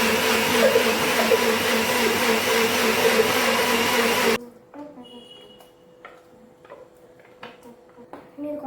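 A kitchen blender grinding a cooled tomato mixture for chicken korma, a loud, steady high whir that cuts off abruptly midway, followed by quiet clatter and a soft voice.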